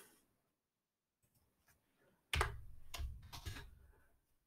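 Quiet, close computer keyboard typing heard as a short cluster of sharp key clicks, entering an email address after a near-silent pause, with no voice over it.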